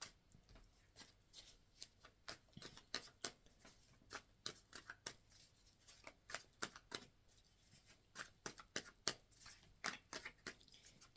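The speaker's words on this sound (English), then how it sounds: "Two more shuffles." A deck of tarot cards being shuffled, a quick series of crisp riffling snaps and flicks in irregular bursts, close and clear in a quiet room.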